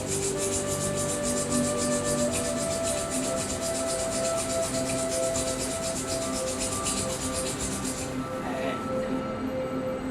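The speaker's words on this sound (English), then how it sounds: "Rub your palm" Palms rub together in a steady, rapid swishing, close and continuous for several seconds before fading out, with faint background music behind it.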